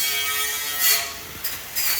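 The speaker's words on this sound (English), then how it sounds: "You can hear them wire wheeling the frame outside." Outdoors, a wire wheel grinds a steel trailer frame for a fifth-wheel flatbed, a hissing abrasive rasp that swells in short bursts over a steady background hum, moderately loud and somewhat distant.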